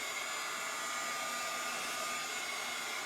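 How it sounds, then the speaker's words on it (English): A hair dryer blows steadily while heating chalk paint, a constant, close, even whir and rushing air with no pauses and no talking. "I'm just barely hitting it with the dryer"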